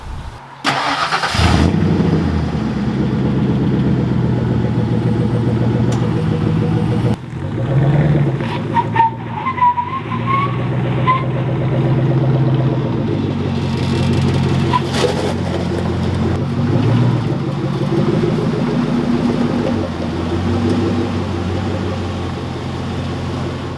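A car engine starts and runs loudly up close, idling and revving unevenly as the car is moved into a driveway, a steady mid-pitched rumble with shifting tone throughout.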